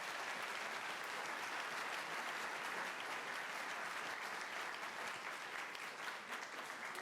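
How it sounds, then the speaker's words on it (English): Applause from an audience at a school instrumental concert: dense, steady clapping from a large crowd, continuous and even throughout, heard from a mixing-board feed. "How about a round of applause for all those students and those groups?"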